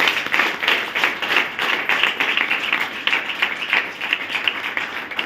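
Audience applause at a motivational seminar led by Raj Bahadur Yadav: dense, sustained clapping from a crowd, steady and fairly loud throughout with no pauses.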